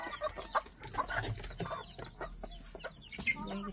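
Chickens cluck and peck nearby on a farm, soft irregular clucks and sharp little pecking taps scattered throughout, fairly quiet.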